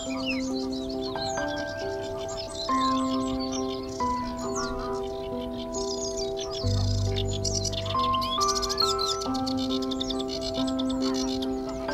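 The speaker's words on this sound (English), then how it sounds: "These warblers are all around me." Warblers sing in scattered bright chirps and short trills in the UK, some near and some farther off, over sustained musical tones underneath.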